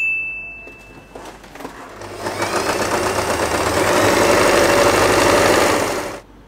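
A sewing machine stitches satin fabric for a hair bow. It starts with a few tentative stitches, then runs in a fast, steady mechanical whirr for about four seconds, close and loud, before stopping.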